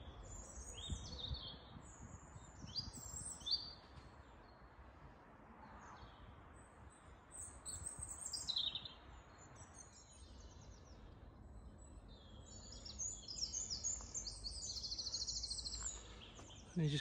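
Birds chirp and call intermittently in a woodland park beside a loop path, scattered bright twitters standing over a steady low rumble of background noise, with no talking.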